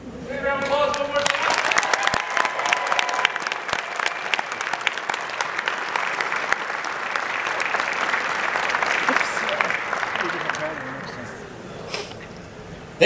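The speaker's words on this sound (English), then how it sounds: "Big round of applause one more time." An audience at a panel with two actors at Planet Comicon Kansas City gives a long round of loud, dense applause that thins out near the end, with a voice briefly heard at the start.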